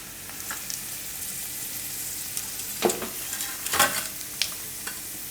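Whole cloves, peppercorns, bay leaves and dried red chilies sizzle in hot oil for palak paneer. A steady, soft frying hiss runs throughout, broken by a few brief crackles and pops, with no talking.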